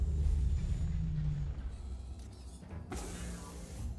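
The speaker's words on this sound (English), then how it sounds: "Powering down systems." A spaceship in Star Citizen powering down its systems after the engines are shut off: a steady mechanical whir and rumble that dips and winds down, ending in a short hissing release near the close.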